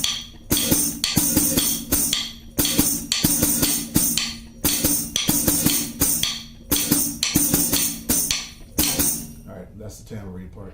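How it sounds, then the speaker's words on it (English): A tambourine plays a repeating world-beat pattern, each bar a burst of crisp shaken jingles and hits with short gaps between phrases, loud and close, alone before it trails off. "That's the tambourine part."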